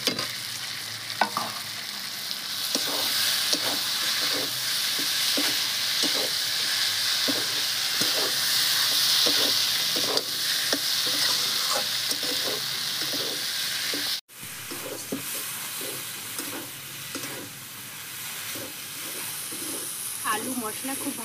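Potatoes sauté with spices for a prawn curry, a loud, steady hiss of frying running throughout with repeated spatula scrapes and taps, dropping out for an instant midway before resuming.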